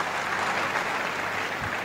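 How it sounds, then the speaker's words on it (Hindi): Dense, steady applause from a large audience at an Amway gathering, continuous clapping throughout with no voices breaking through. "And all the sapphires and emeralds, उनके लिए जोरदार तालियां हो सकती है."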